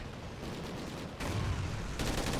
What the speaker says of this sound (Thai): แม่เอา EPR มาใช้นะครับจังหวะนี้ เปิดฉากยิงนะฮะ